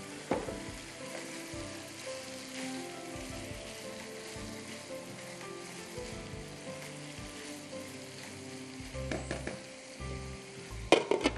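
Mushrooms and chicken fry in a pan with a constant crackling sizzle, punctuated by occasional clinks and scraping of a utensil, loudest near the end, with no one speaking.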